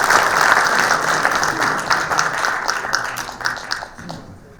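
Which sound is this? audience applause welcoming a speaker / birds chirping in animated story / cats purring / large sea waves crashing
audience applause welcoming a speaker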